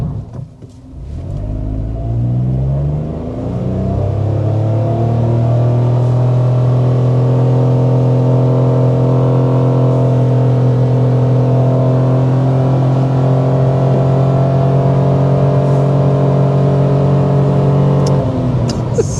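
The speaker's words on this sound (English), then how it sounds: "we want to go ahead and start with a hard acceleration so you can see how the powertrain is going to" A 2024 Mitsubishi Mirage under hard acceleration, its engine note climbing steadily through the revs and holding a loud, strained drone for most of the stretch, with no talk over it.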